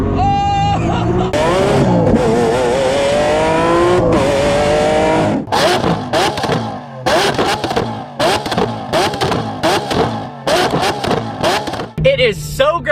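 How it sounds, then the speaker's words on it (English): A Lamborghini Aventador SVJ engine revs hard and loud, its pitch climbing steadily through the first few seconds before breaking into choppy, rapid bursts of engine noise. "I'm finally reviewing one of the craziest looking, best sounding cars of all time, the Lamborghini Aventador"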